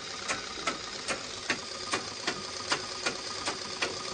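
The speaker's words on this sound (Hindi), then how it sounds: "इस तरह से बिना धागा डाले हुए आपको खाली मशीन चलाते रहना है।" Sewing machine running empty without thread, a faint, steady mechanical whir marked by evenly spaced clicks about twice a second, heard alone.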